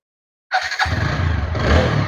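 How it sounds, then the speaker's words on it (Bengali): A 2022 TVS Apache 4V X-Connect double-disc motorcycle in good condition starts after half a second of silence. It catches with a brief whirring crank and then settles straight into a loud, steady close-up idle. "সর্বশেষ এখন বাইকটি স্টার্ট দিব আর কি"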